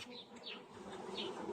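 Honeybees at a hive lifted onto a new box in March hum in a dense, continuous buzz, close and steady, with individual bees swooping past.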